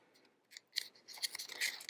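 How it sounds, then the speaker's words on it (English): Scissors snip a tiny hole in a folded paper cupcake liner for a tree ornament, several quiet, crisp close-up cuts in a row with no talk. "So I'm taking the top of the tree, folding it over, and cutting in just a tiny little hole."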